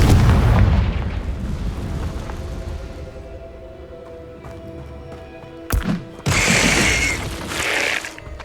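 Confringo fire spell blasts in Hogwarts Legacy on PS5: a heavy rumbling explosion fading out at first, then a sharp crack and a second bright burst with crackling debris a few seconds later.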